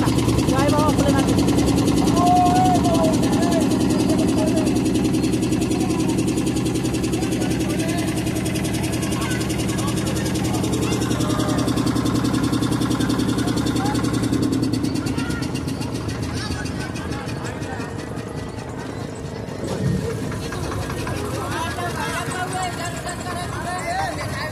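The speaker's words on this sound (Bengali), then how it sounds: "আমাদের লঞ্চ স্টার্ট হয়ে গেছে" A launch boat engine on the river at Varanasi runs with a steady low rumbling drone throughout, under people talking and background chatter, easing slightly in the latter part.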